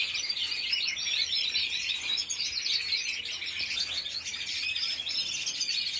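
Wild birds chirp steadily at a feeder stocked with watermelon, a dense chorus of overlapping tweets and calls held at an even level for the whole stretch, with no voices.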